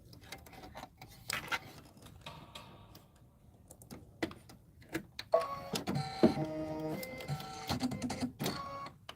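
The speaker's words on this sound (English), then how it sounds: "this is going to take the longest to stitch out because it's going all around the turkey" A home embroidery machine stitching out a turkey design, with quiet intermittent clicks and taps at first, then a louder run of rapid rhythmic mechanical stitching and whirring toward the end, no speech.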